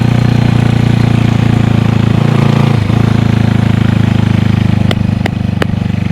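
A Honda CB360 motorcycle with homemade exhaust baffles idles steadily up close with a low, throbbing rumble, briefly dipping once before settling, followed by a few sharp clicks.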